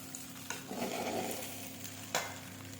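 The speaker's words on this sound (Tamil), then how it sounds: "பாருங்கள் ஃப்ரெண்ட்ஸ் எப்படி வறுக்கிறாங்கன்னு" Idli upma roasting in a pan, with a soft continuous sizzle under scraping and stirring and a couple of sharp utensil knocks against the pan, close and moderately loud.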